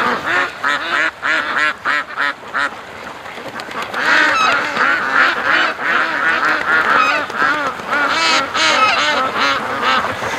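Dense, loud quacking and honking pours from a big flock of ducks being chased toward a creek mouth by a dog, the calls overlapping in rapid bursts with no talk.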